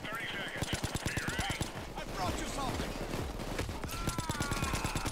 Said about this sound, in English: I know, I'm shooting them